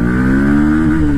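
A Bajaj Pulsar NS 160 motorcycle engine revs up under acceleration, a loud, close, rising tone held for a moment with no voices.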